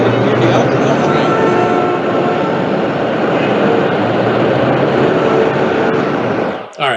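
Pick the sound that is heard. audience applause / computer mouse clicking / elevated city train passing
elevated city train passing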